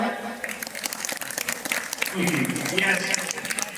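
An audience claps at a school annual function, a dense burst of applause mixed with voices and chatter from the crowd.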